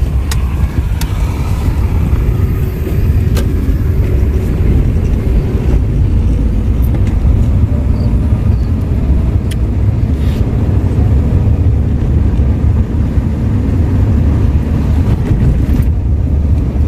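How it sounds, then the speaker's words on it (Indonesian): Steady, loud low rumble of vehicles on a quiet town street at night in Sinabang, a continuous drone of engines and tyres throughout with no voices. "Masih ada kendaraan berapa bijinya guys"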